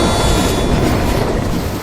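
An Indian Railways train rolls past on the tracks, a loud, continuous close-up rumble of wheels and carriages that holds steady throughout, with no voices.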